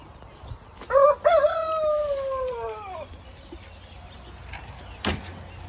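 A rooster on a breeding farm crows once, loud and close, a long drawn-out call, with a few softer squawks from hens before it and another short sharp cry near the end over quiet barnyard background.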